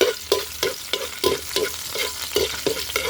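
Garlic sautéing in hot oil while being stirred for a pork belly and broccoli dish, a steady close sizzle broken by about ten regular scraping stirs, roughly three per second.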